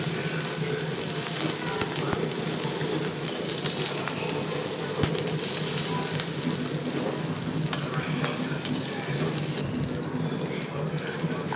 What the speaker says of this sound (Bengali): 2টা তেজপাতা দিয়ে দিলাম ধুয়ে, দিয়ে আমি কিছু সময় লাল লাল করে ভেজে নেব।